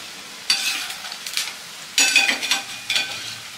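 Semolina (rava) rings with vegetables deep-fry in hot oil with a soft background bubble, while three bursts of stirring scrape and churn through the oil, close and brief.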